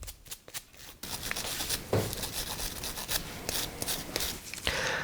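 Grit and debris being scraped and brushed off the screws of a Bedrock hand plane make close, continuous rubbing and scratching with irregular scuffs, alone without talk.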